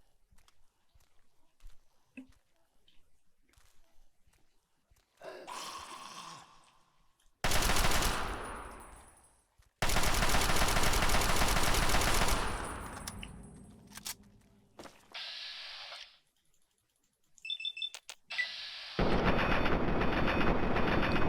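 Gunfire from the player's gun in the video game Fallout 3: several long, loud bursts of rapid shots separated by quiet gaps, with softer scattered sounds between.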